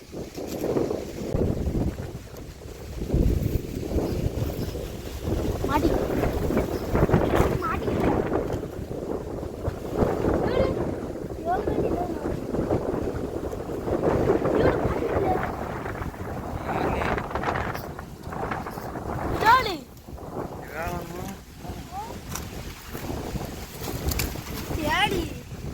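Wind gusts steadily across the seaside, rumbling and buffeting the microphone in a continuous roar, with people talking now and then.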